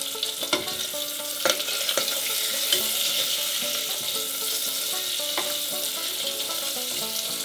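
Bacon sizzling and crackling in a lidded pot, a steady close hiss of frying fat broken by sharp pops and occasional lid or utensil clicks, with no talking.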